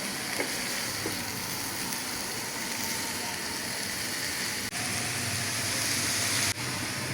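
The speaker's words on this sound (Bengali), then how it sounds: "সবজিটারে একটু উল্টাইয়া পাল্টাইয়া নাড়া দিলাম।" Chopped vegetables for patties hiss in a pan with a dense, even sizzle, broken by a couple of brief stirring scrapes near the middle and end.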